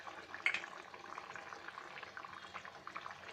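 Chicken drumstick curry simmers in a pot, giving a steady low bubbling hiss with small pops throughout, fairly quiet and continuous with no voices.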